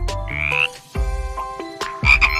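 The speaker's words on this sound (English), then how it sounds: "It's a frog." A frog croaks in a series of loud, close, resonant calls with short pauses between them, clear and alone with no talking.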